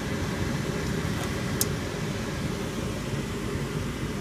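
Steady whirring hum of a Fasco A172 furnace inducer exhaust motor running after installation, even and continuous drone at close range with no talk.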